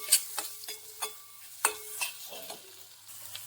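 Kashmiri red chilli powder stirred into egg bhurji in a pan, a handful of scraping spoon strokes over a soft, faint sizzle, close up and without any voices.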